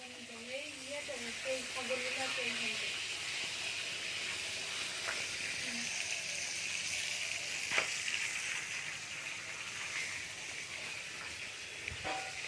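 Fish frying in a pot over a wood-fired clay stove gives a steady low hiss and sizzle, with a voice briefly heard early on and a few sharp clicks.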